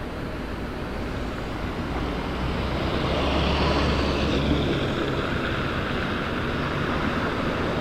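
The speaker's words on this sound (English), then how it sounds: "you get a lot of traffic all of a sudden." Steady roadway rumble of vehicles streaming past along the only road in and out of a flooded area, a continuous, fairly loud wash of traffic noise with no talk over it.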